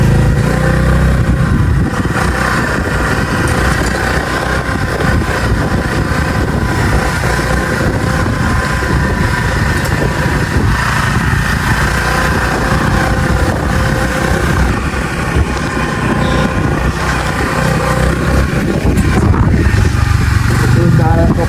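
Motorcycle riding along a narrow path, its mid-pitched engine running steadily and fairly close, with some clatter and a person talking over it.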